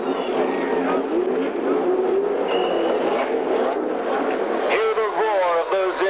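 Formula One cars roar past at Watkins Glen before a crowd of over 80,000, high engine notes rising and sweeping through gear changes, with a commentator talking throughout.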